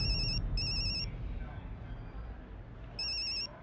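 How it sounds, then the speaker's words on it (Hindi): A telephone rings in short electronic bursts, two close together at the start and another after a pause, over a low, noisy background. "टप्पू का फोन?"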